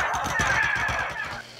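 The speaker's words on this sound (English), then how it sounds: "I spawned some more parrots" Parrots in Minecraft give a quick run of harsh, honking squawks layered with a thin whistle, loud and close, fading out at the end.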